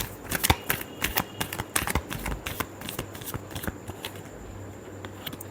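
Tarot cards being shuffled by hand, a run of quick, crisp riffling flicks and taps close by, with irregular bursts over several seconds and no talking.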